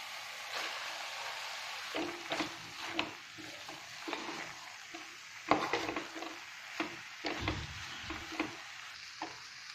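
Cooked rice is stirred into a mint paste with onion and garlic frying in a pan, giving a soft sizzle under repeated scrapes and taps of a spoon.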